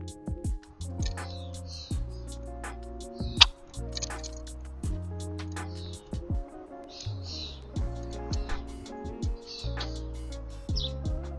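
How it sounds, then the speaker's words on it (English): Small birds chirp and tweet intermittently at close range while feeding on seeds inside a camera-fitted birdhouse, with soft pecking and scattered clicks over a steady low hum and faint background music. "get close-up shots of birds as they eat"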